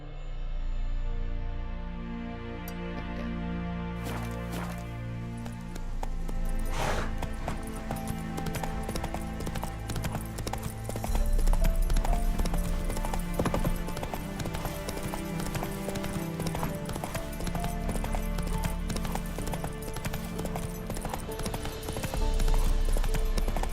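Roach, a horse in The Witcher 3, gallops with steady clip-clop hoofbeats throughout, set against a game music score, with a brief whinny.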